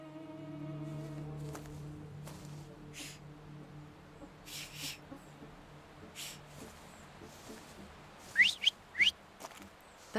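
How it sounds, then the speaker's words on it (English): Whistling in The Thaumaturge video game: two short, rising whistles near the end, heard over steady tonal game music and ambience. "So, have you mastered whistling?"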